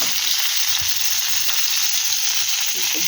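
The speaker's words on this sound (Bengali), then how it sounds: "দেখুন ফুলকপিটা ভেজে নিচ্ছি ভালো করে" Cauliflower pieces fry in hot oil in a pan, giving a continuous, dense, fairly loud sizzle that holds steady throughout with no voices.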